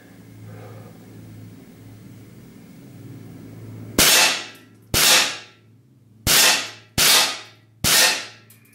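Five sharp, loud shots from a Steyr LP50RF air pistol, fired one at a time at irregular intervals of about a second, each crack ending in a short decaying ring over a low steady room hum.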